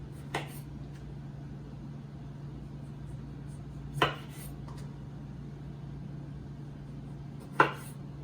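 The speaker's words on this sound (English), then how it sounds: "this is a cherry tomato, just cut into the two half and throw on the bowl" Cherry tomatoes halved with a knife for a keto Cobb salad: three sharp, isolated knocks of the blade on the board a few seconds apart, over a low steady hum.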